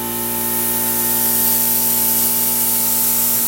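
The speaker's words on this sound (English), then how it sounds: "and create a real good spray of water" A misting cooling system on a metal lathe and mill forces water and air out in a spray. It makes a loud, steady, close hiss that holds evenly throughout.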